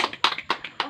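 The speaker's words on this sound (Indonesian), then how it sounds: "Iya, tepuk tangan." Hand claps at a family finance training session, four sharp separate claps in quick succession, close and moderately loud, with no voices.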